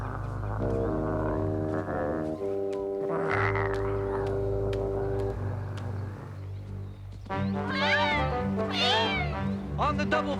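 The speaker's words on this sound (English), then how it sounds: "Be careful of that cat." Cartoon cat meows and yowls over a busy animated soundtrack, several drawn-out pitched cries toward the end, loud and close, mixed with music and croak-like animal sounds.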